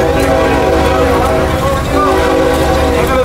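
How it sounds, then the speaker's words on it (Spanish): A train rolls past in Tampico with a loud, steady horn blast holding over the rumble of the cars, close and continuous. "Ahí va el tren."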